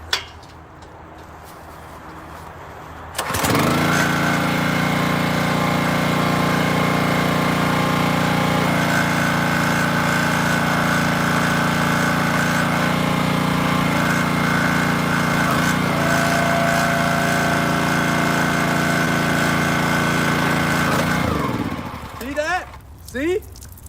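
A small gas engine on a log splitter starts after a quiet moment and runs steadily and loudly at constant speed for about twenty seconds, then cuts out near the end.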